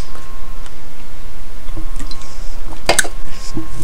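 Water dripping and sloshing in a dank sewer in the video game Amnesia: A Machine for Pigs, a steady wet ambience with one sharp, louder splash or drip near the end.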